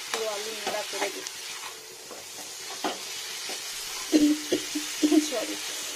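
Potatoes frying in a pan as a spoon stirs them, a steady sizzle with scraping and knocking stirs that grow more pronounced near the end, while someone speaks Bengali over the cooking.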